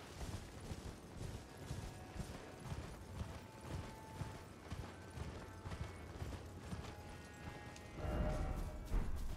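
Horse hooves clip-clopping at a steady trot in the Elden Ring DLC, mixed with creaks and mechanical game sounds, with a louder burst of activity near the end.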